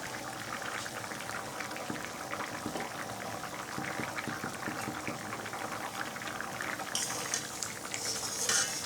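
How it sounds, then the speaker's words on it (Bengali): Red lentils (masoor dal) bubble steadily in a pot over medium heat, a continuous soft burbling and popping that holds at the same level throughout, with a few brighter splashes near the end. "ডালটা সিদ্ধ হয়ে আসছে।"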